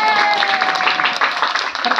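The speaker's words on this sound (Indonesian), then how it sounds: "Tepuk tangan dong." A children's Quran memorization contest erupts in brief, lively applause from the crowd, with a voice coming through over the clapping.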